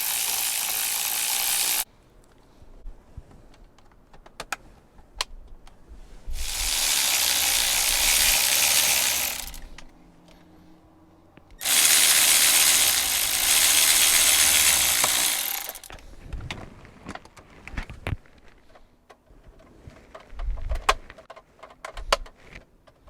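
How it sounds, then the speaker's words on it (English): A ratchet wrench tightens T30 screws on a 1991–94 Toyota Tercel steering wheel, with long bursts of rapid clicking separated by quieter pauses of handling noise, close and unaccompanied by speech. "we have to tighten our T30 on this side and our T30 on this side as well"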